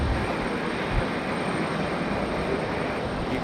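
Airbus A321 airliner taking off at Raleigh-Durham International Airport, a steady broad roar heard from a distance that holds evenly throughout, with no speech over it.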